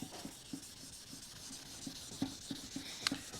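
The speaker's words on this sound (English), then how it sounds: "You can kind of hear where I've hit before with the sandpaper" Hand sanding a car panel with fine sandpaper to remove orange peel, a soft rhythmic scratching and rubbing with regular strokes, quiet and close with steady background hiss.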